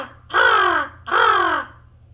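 A crow gives two loud, harsh caws close by, each drawn out for about half a second with a short pause between, and no voices are heard.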